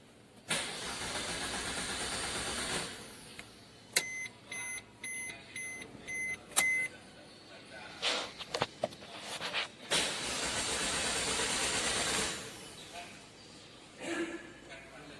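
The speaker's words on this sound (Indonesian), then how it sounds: "Kemudian kita coba untuk menstarter mesin." A car engine cranks in two long broadband bursts but fails to start during fuel injection system checks, with a series of electronic beeps and some clicks between attempts.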